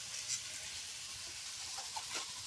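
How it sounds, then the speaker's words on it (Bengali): Meat pieces hiss and sizzle in hot oil in a kadai, a steady close frying rush filling the brief moment without talk. "এদিকে এখন মাংসটা ছাড়া হচ্ছে কড়াইতে কষানোর জন্য।"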